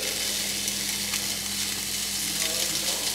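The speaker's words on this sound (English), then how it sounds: "Tacos going in the pan." Tacos frying in a pan give a loud, continuous close-up sizzle with an even crackling hiss and no pauses.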